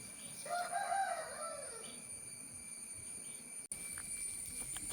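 A village fighter rooster gives one close, clear crow near the start, followed by background ambience and a steady high-pitched hum.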